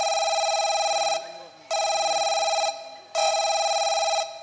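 A telephone ringback tone sounds three times in steady bursts, each about a second long and separated by short gaps, while faint voices murmur quietly underneath.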